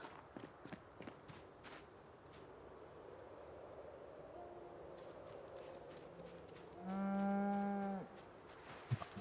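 A Holstein milk cow in the video game Project Zomboid lets out one long, loud moo near the end, preceded by soft footsteps and faint farm ambience.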